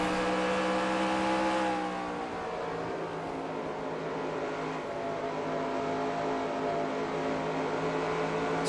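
NASCAR race car engine at Dover in NASCAR Racing 2003, a loud continuous droning roar that drops in pitch after about two seconds, then holds a steady sustained tone with no voices.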